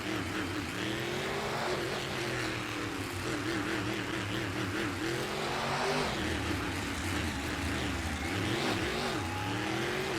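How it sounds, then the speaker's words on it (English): Several Monster Jam monster truck engines roar and rev continuously on the stadium track, deep throaty engine tones rising and falling together under crowd noise. "As these trucks take the track and take their lap and get these fans hyped up"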